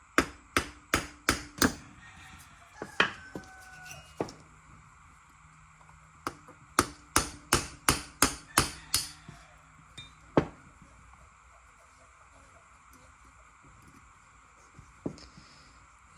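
Light, sharp metallic taps strike a stuck carburetor on a Honda 350 Rancher ATV, coming in quick runs of about six to eight hits with pauses between, close and crisp, with a few scattered clinks and then quiet.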